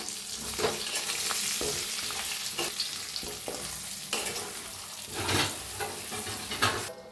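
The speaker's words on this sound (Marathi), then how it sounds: "आता वांगी भरलेलं टाकू आपण। चवीप्रमाणे जरा मीठ टाकू वरनं। 1 मिनिट हलवून घेऊया।" Stuffed brinjals sizzle and fry steadily in a pan while a spoon stirs and scrapes them in several distinct strokes, the hot crackle continuous throughout.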